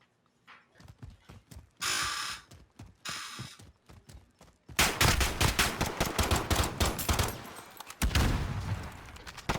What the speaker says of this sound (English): Pistol shots going back and forth.